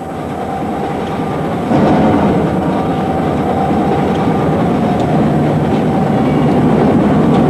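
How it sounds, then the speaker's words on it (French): A long freight train of 100 to 120 wagons loaded with raw bauxite ore rolls past, a loud continuous rumble with rattling wagons that swells midway and keeps going, no voices. "Chaque jour, 5 ou 6 convois de 100 à 120 wagons chargés de bauxite brute partent"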